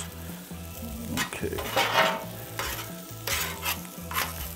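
Frozen tater tots frying on a Camp Chef Explorer camp stove, a steady sizzle under repeated scraping and stirring with a metal utensil against the pan, close by; a voice says a single short word.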